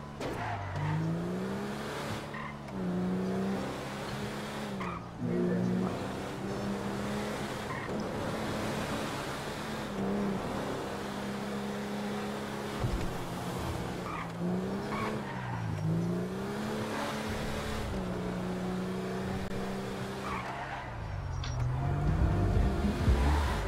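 A Toyota Land Cruiser driven hard in GTA 5: the engine revs up and down continuously, with repeated gear-change dips and tire squeals, loud and close throughout with no talking.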